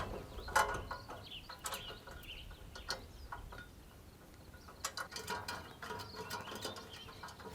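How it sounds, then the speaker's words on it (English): Screws are driven tight to fix a brace to the leg of a Camp Chef Woodwind Pro pellet grill, heard as scattered ratcheting clicks and metallic taps in short bursts, fairly faint and close, with no talking. "you're going to want to tighten these screws up, securing the brace to the leg, and you can go all the way tight on these ones"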